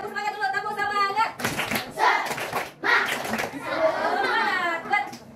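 A class of children does rhythmic spirit clapping, bursts of hand claps alternating with a teacher's talk and children's voices, with some chuckling mixed in.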